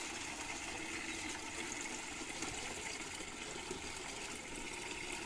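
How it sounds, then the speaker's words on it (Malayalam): A bucket filling with water for floor cleaning, a steady faint rushing and splashing stream running without a break throughout. "അപ്പൊ ഇതിന് കുറച്ചൊന്ന് വെള്ളം നിറയട്ടെ."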